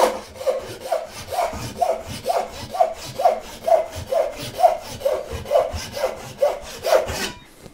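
A Western hand saw cuts through wood in steady back-and-forth strokes, about fifteen even rasping pulses in a regular rhythm, close and clear with no talking.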